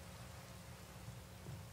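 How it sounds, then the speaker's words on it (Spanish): Steady rain falls in Minecraft, a soft, even hiss that stays faint and continuous with no voices over it. "¿Está lloviendo? Está lloviendo,"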